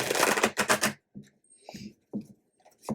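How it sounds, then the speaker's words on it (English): A stiff deck of tarot cards is shuffled close up in a dense, rattling burst of flicking cards lasting about a second, followed by quieter scattered handling sounds. "Well, maybe I won't want this deck. I can never seem to shuffle it."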